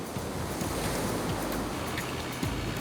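Heavy surf breaking at Bondi, a dense, loud, continuous roar of crashing water and wind with no voices.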